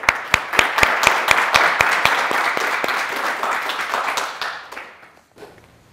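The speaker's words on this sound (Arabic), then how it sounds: "صفقوا لهم" Audience applause at a school quiz show, loud close clapping with sharp individual claps that swells, then fades out to near silence.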